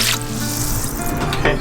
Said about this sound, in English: I'm just going to cover it again with water